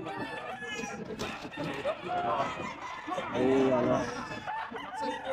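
Chickens clucking and roosters crowing at a Sunday pet market, faint and scattered behind close conversation and market chatter.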